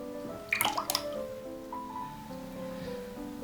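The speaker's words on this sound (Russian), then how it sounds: "Зерна очищенные отправляю в холодную воду." Peeled almond kernels dropped into a bowl of cold water while preparing almond baklava, a brief cluster of small splashes and plops followed by quieter trickling against a steady background hum.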